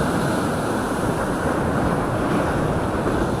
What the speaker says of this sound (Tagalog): First time ko lang kasi itong pinwestohan na ganito kalalaki yung alon.